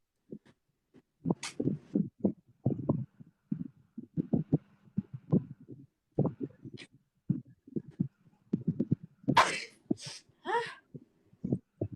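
A single sharp sneeze bursts out near the end of a Bugis comedy sketch, set among a steady run of low, muffled voices and soft thumps.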